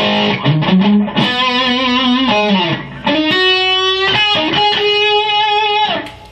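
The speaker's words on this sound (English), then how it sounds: "both together gives you this really kind of thick gain sound" Electric guitar with boost and overdrive pedals stacked on a GCX/Ground Control rig, giving a thick, saturated gain tone; loud sustained lead notes and bends run steadily with a brief break midway, no voices.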